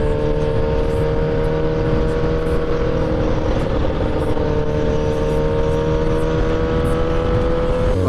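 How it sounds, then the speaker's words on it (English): A loud motorcycle engine drones steadily from the rider's seat while lane splitting between cars in traffic, a constant close hum with rushing wind noise and no pauses. "you can probably hear my bike now"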